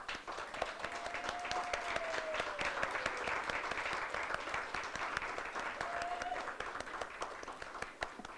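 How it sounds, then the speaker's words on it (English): Steady, continuous applause from a seated crowd at a college leadership recognition awards ceremony, honoring families and guests; it sounds moderately distant and even, holding for several seconds. "could you please stand up so we can acknowledge you and give you a round of applause?"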